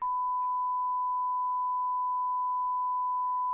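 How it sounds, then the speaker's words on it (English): A steady, unbroken censor beep: a single pure electronic tone held at constant loudness for the full length, with no voices around it. "I'm going to put a censor beep there so people don't know what you said"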